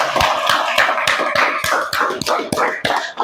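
A school class claps in a classroom, with sharp, distinct hand claps falling in a fairly regular rhythm about three per second, loud and close, and no one speaking.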